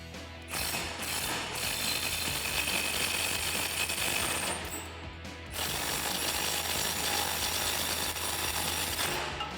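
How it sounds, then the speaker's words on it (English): Ratcheting clicks from a socket wrench tightening nuts on an F-150 truck's front differential, a steady run of fast close clicks with a short pause around the middle. "Now we can go ahead and tighten up our nuts."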